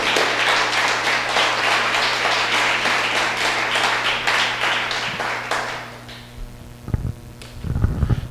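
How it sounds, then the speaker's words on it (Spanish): A church congregation gives a strong round of applause to the King of Kings, dense clapping over a low sustained hum that thins out and fades, leaving a few scattered thumps near the end. "Dele un fuerte aplauso al Rey de Reyes."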